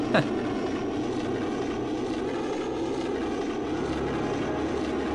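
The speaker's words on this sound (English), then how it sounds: "Falcon engine noise is pretty loud." A loud, continuous roaring drone of the Millennium Falcon's engine in the video game Rogue Squadron, steady and unbroken, with a brief whistling sweep at the start.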